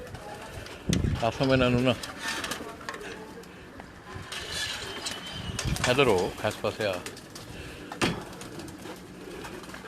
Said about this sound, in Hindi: सब जो है लाल परी कबूतर है